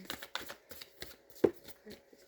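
Tarot cards are shuffled up close in a quiet room, a soft, irregular run of papery riffles and light taps, faint and unaccompanied.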